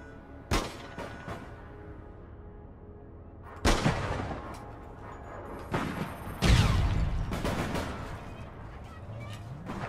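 Shotgun blasts in the online shooter APB Reloaded, several loud sharp bursts spaced a few seconds apart, with a faint voice briefly under the gunfire.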